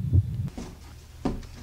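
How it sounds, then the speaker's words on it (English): A low, muffled heartbeat in a horror video game, with two soft thumps close together followed by a pause and another thump, faint and alone. "Oh, why am I hearing a heartbeat?"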